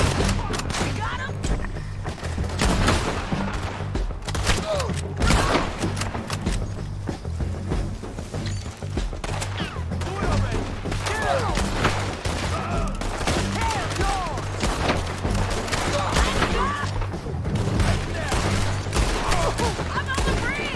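Dense, continuous gunfire in a Red Dead Redemption 2 shootout near a bridge, rapid overlapping shots and rattling volleys filling the whole stretch, with shouting voices mixed in.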